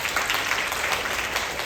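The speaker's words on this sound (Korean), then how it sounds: "박수 부탁드립니다" A church audience at a summer retreat lecture breaks into brief, dense applause, a steady wash of many hands clapping together.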